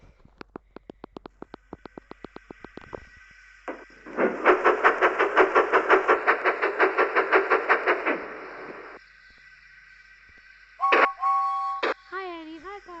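A person imitates a Thomas the Tank Engine steam train with the voice: quick chuffing bursts, then a long rhythmic pulsing puff, followed by short whistle-like toots near the end.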